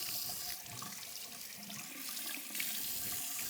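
Tap water runs steadily while a straight razor is rinsed during a wet shave, a constant close splashing rush into a sink with slight shifts in flow.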